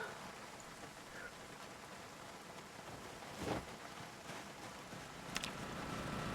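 Steady rain falls in the video game Project Zomboid, a dense even hiss running throughout, with a couple of brief louder splashes or clicks near the middle and end.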